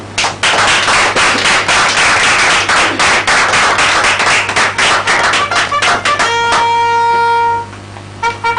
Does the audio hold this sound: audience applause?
yes